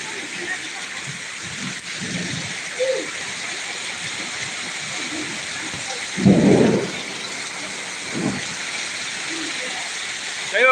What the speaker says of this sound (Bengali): যাই হোক, এই বৃষ্টিটা দরকার ছিল আসলে